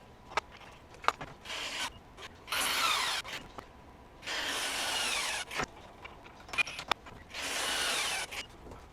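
A Hercules HCB85B 20V brushless ultra-torque impact wrench retightening fasteners gives three loud, close hammering bursts of about a second each, separated by sharp clicks and quieter pauses.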